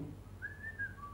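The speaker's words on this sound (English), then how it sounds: "Somebody's phone is constantly whistling." A phone's whistling notification chirps during a council meeting: one brief, faint rising-and-falling whistle over low room hum, heard alone without talk.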